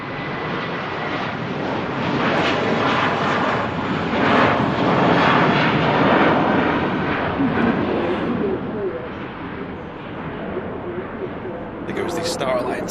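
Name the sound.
Turkish Airlines Star Alliance A321 passing at Manchester Airport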